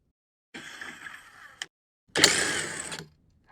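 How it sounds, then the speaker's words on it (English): Bolts are taken out of a Club Car golf cart during a solar panel install, heard as two close, loud bursts of mechanical ratcheting or whirring about a second each, separated by a short pause, with no talking. "So here I'm going to take out these bolts"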